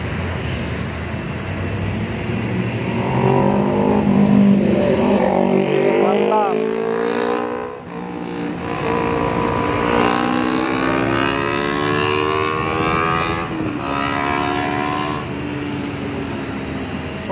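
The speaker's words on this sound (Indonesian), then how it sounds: "Wah, mobil kencang-kencang banget nih dari belakang." Cars and buses rush past on a busy road in Nagreg at night, engines roaring and whooshing with rising and falling pitch, loud and close, under a continuous traffic rumble.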